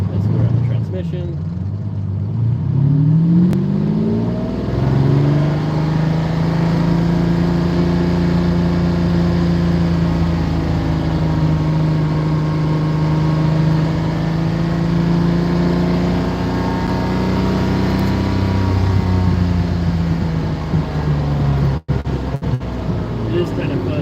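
Lamborghini Countach driving through a small town, its engine note climbing and holding as the car accelerates, loud and close, while someone talks over the drive.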